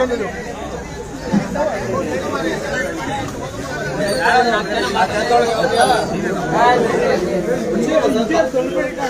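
A noisy crowd chatters outside a police station, a dense, steady babble of many overlapping voices, close and loud, growing busier partway through.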